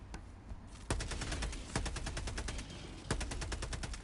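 Rapid automatic gunfire from a weapon in the video game Helldivers 2, a dense stream of close, loud shots in quick succession with a few heavier bursts, playing alone.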